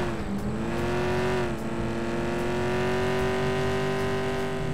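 Car engine in the video game American Fugitive, driving and revving with a steady, rising harmonic drone that holds loud and close throughout, no talking.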